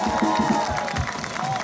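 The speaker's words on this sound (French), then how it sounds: "Je pense qu'on peut tous s'applaudir," Crowd at an outdoor rally clapping and cheering together, a brief burst of mixed applause and shouting voices at close range, loud and sustained throughout.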